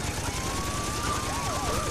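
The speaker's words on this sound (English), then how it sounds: "These are a lot of sirens." Police sirens in the Saints Row 2 video game, a steady wailing tone joined by a second sweeping siren over a noisy background of game action.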